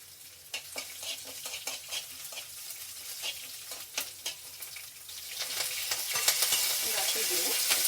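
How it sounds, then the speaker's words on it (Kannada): Green chillies, dried red chillies, crushed garlic and curry leaves sizzling in hot oil for a chutney tempering, with sharp stirring clicks over a steady frying hiss that swells louder toward the end. "ಮೆಣಸಿನ್ಕಾಯಿ, ಒಣಮೆಣಸಿನ್ಕಾಯಿ, ಬೆಳ್ಳುಳ್ಳಿ, ಕರಿಬೇವಿನ ಸೊಪ್ಪು ಹಾಕಿ ಒಗ್ಗರಣೆಗೆ ಹಾಕಿದ್ದೀನಿ"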